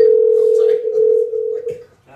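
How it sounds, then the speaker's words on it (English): A steady telephone dial tone holds while a call is being placed, with faint sounds toward the end as the tone drops away. "So we're calling Eryk Anders."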